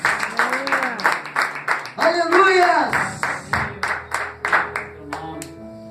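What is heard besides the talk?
congregation applauding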